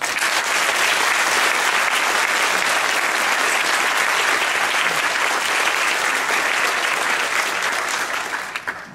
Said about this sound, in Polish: te brawa, które zaraz usłyszymy, na pewno będą dla niego